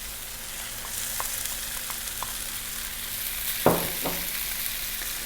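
Cooked rice with okra, coriander and chili powder fries on high heat in a pan, giving a steady hissing sizzle. A few light taps and a sharper clatter come from stirring.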